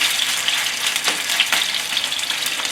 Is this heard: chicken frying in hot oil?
yes